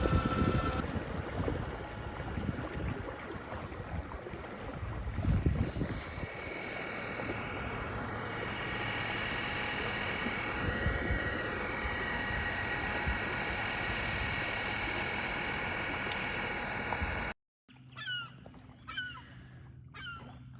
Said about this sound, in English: electric motor's pushing us on pretty good now